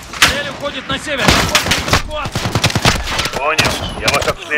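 Bursts of automatic gunfire and single shots crack loudly through a Call of Duty: Modern Warfare 2019 campaign firefight, dense and near, with voices shouting over the shooting.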